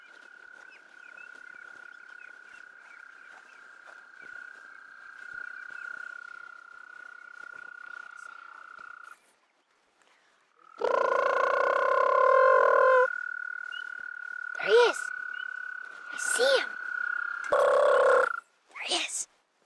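A long, steady high mating trill of a toad rings out, pauses, then resumes with bursts of louder calls and noises layered over it.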